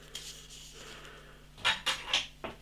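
Nissin Cup Noodles Teriyaki Chicken flavour is stirred in boiling water, a soft swishing followed by a few sharp clinks of utensil against the cup, close and brief.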